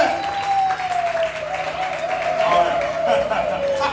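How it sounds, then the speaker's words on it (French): An audience at an eloquence contest applauds, a continuous wash of clapping with a sustained tone and crowd voices running over it. "Je vous applaudis, s'il vous plaît."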